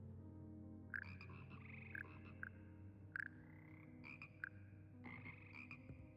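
Frogs croak repeatedly in Hogwarts Legacy, a series of clear, fairly close calls at roughly one-second intervals over a quiet steady ambient hum.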